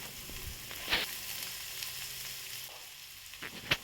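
Finely sliced large onions sauté in a little oil in a kadai with a steady, close frying sizzle. A couple of sharp clinks from stirring stand out above it.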